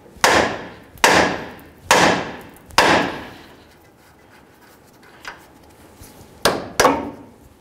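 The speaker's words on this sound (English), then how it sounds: "we're going to continue on with a nice hammer, and we're going to give the knuckle a couple loving bonks." Metal rings out as a hammer strikes a 1992-2000 Chevy Tahoe steering knuckle, four evenly spaced sharp blows, a pause with a faint tap, then two more hits.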